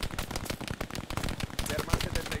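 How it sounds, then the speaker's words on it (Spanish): Rapid machine-gun bursts in the World War II shooter Hell Let Loose, crackling close and loud in dense rapid volleys with other battlefield gunfire mixed in across the whole stretch. "Es una MG, tío."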